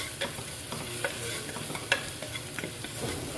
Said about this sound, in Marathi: कांदा पाच फोडणी हिरवी मिरच चांगले तडका करून घ्यायचा आहे